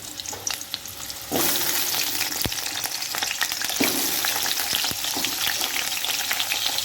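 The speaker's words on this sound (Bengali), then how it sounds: "প্রথমে তেলটা গরম হয়ে গেলে আমি আলুগুলো ভেজে তুলে নেব।" Potatoes drop into hot oil and a loud, dense frying sizzle suddenly swells and then holds steady close by, with a few clicks of a utensil, for a Bengali vegetarian mushroom dish, with no talking.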